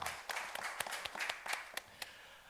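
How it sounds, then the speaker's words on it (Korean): A church congregation claps in a short, fairly quiet burst, a handful of sharp individual claps standing out over softer scattered applause. "하나님께 영광의 박수를 드리겠습니다"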